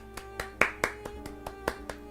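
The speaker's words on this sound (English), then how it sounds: "This deserves a clap" A single person claps by hand in an irregular run of about ten sharp claps over two seconds, close and moderately loud, with steady music playing underneath.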